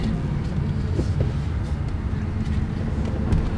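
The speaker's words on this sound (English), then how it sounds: "you will hear tyre noise because you've got no engine" Steady low tyre roar from an MG ZS EV electric car rolling along a road, a continuous broadband rumble with no engine note rising above it.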